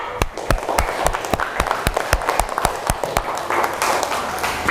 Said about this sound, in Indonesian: Tepuk tangan untuk Amelia.